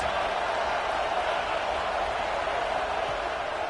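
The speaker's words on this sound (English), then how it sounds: "this crowd is coming to help the defense" Dense stadium crowd roar in a college football video game during a TCU versus Notre Dame matchup, a steady loud wash of cheering that holds at even level throughout with no distinct breaks.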